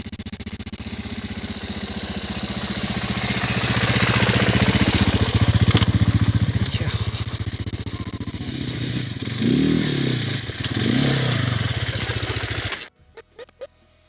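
An off-road motorcycle rides downhill on rough terrain, its engine a loud, continuous buzzing drone that swells and eases with throttle and clatter over the ground, then cuts off abruptly near the end, leaving faint scrapes.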